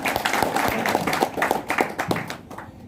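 Audience applause at a live LIC insurance seminar in Patna, a dense patter of many hands clapping steadily for about two and a half seconds, then thinning and fading out at the end.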